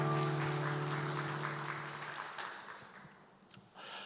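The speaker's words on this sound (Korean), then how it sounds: "우리를 불러주신 하나님께 감사의 박수 올려드립시다" A church congregation applauding together during a Sunday morning worship service, a broad wash of clapping that fades gradually over a few seconds, with faint sustained tones underneath.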